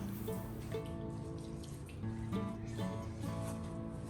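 Water draining from a washed rug stood upright at home during a deep clean, a steady, faint trickle and patter of runoff continuing throughout without talk.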